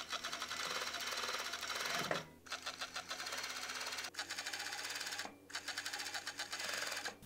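A sewing machine stitches a T-shirt hem in fast, steady runs, close and clear, stopping briefly three times before whirring on again.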